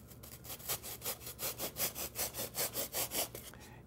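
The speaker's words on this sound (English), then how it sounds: "just use a coping saw, or you can take it to the bandsaw and just kind of rough cut close to that line as best you can" Coping saw rough cutting wood cove molding by hand, about a dozen quick, evenly paced rasping strokes, close and fairly quiet.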